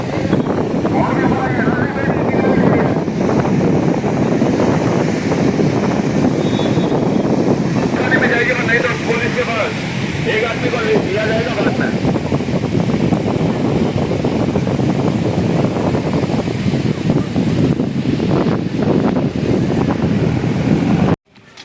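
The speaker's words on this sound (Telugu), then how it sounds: "బాగా బీచ్ బాగా బీచ్ వచ్చింది" Surf and gusting wind at Baga Beach in Goa, a steady loud roar of waves with microphone wind buffeting throughout, and people talking faintly under the noise.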